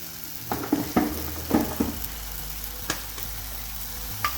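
Fennel seeds and cumin stirred in a pan over high heat with salt, giving short scraping, crackling bursts in the first two seconds, then a steady low hiss with occasional sharp clicks.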